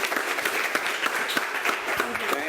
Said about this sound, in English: Round of applause for the virtual audience.